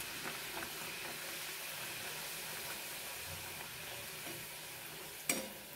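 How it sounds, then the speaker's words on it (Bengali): Pea-filled matar kachori deep-frying in hot oil, a steady dense sizzle and hiss throughout, close and constant, with a brief clink of a utensil near the end. "ভেজে নিই।"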